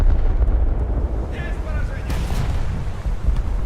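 Naval guns from warships in a video game boom and rumble in heavy, overlapping blasts over a low roar of sea and engine noise, with a voice briefly audible over it.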